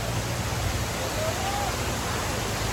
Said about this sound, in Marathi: हा आपला धुम्मपट्टी वॉटरफॉल बघा